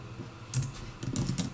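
Keys on a computer keyboard clack in a brief, close burst of a few quick taps with small pauses between them.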